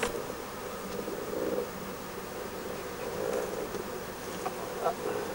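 French black honeybees swarm around a beehive at an apiary in Pélissanne, a dense continuous buzz with individual bees droning past close by over the steady hum of the colony.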